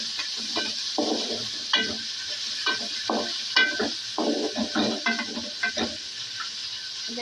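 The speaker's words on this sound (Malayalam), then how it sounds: "വെളുത്തുള്ളി ഇഞ്ചിയും കൂടെ പേസ്റ്റാക്കിയത് നമ്മളിതിൽ ചേർക്കുന്നു" Garlic-ginger paste hits a hot pan for a village-style beef curry, making a steady sizzle. Repeated scraping stirs come in bursts over it, close and fairly loud, with no talk.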